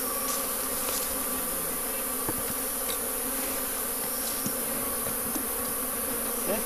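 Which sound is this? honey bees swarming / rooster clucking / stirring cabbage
honey bees swarming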